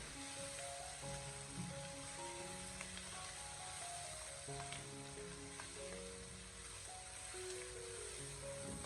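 Pork and garlic scapes stir-fried over high heat in a wok give a steady, dense sizzle that stays loud and even throughout, with tonal music-like notes running underneath.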